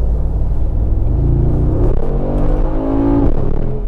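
A Mercedes-AMG G 63 with its 4.0-litre twin-turbo V8 and variable exhaust, driven gently in comfort mode, gives a steady, fairly loud low rumble that rises slightly in pitch as the engine climbs through a mild acceleration.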